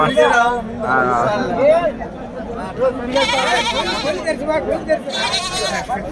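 Goats and sheep bleating at a weekly livestock market, repeated calls mixed with constant crowd chatter and people talking nearby.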